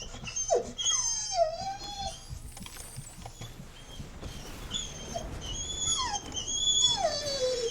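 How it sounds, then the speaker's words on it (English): Dog fussing indoors, giving a series of high whines and whimpers, some rising and falling, fairly close and moderately loud against a quiet background. "I don't know why the dog is fussing."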